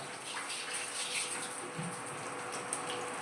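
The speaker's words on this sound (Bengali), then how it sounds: "1 মিনিট দাঁড়ান, আমি একটু থালাটা ধুয়ে নিই।" A plate is washed under running tap water, a steady, soft splashing gush with small clinks, fairly faint and heard alone.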